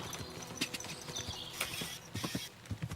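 A horse clip-clops along in Kingdom Come: Deliverance II, irregular hoof knocks close up with faint mechanical clatter, no talking.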